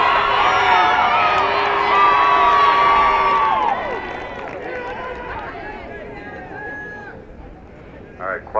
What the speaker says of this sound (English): One more big cheer before they get started.